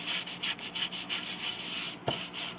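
Raised grain on the case of an 1867 Chickering 33B piano is smoothed out by hand, a close, rhythmic back-and-forth rubbing with about a dozen even strokes and a single soft knock near the end.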